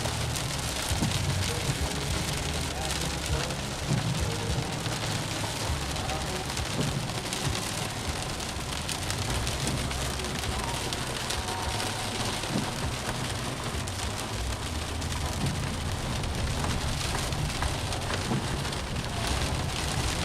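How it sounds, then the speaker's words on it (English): Steady rain patters on a surface, continuous and even, with no breaks. "I finally got the rain finally calmed down long enough for me to get in the truck."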